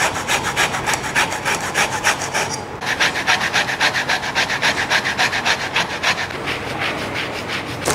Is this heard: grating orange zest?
yes